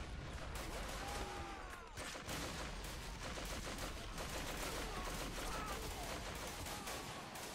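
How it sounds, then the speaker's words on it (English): Dense, continuous WW1 machine-gun and rifle fire rattles without a break through a French charge at Fort de Vaux in a First World War video game. The gunfire is loud and sustained, with overlapping shots forming a steady wall of noise. "Will someone take out this goddamn machine gun?"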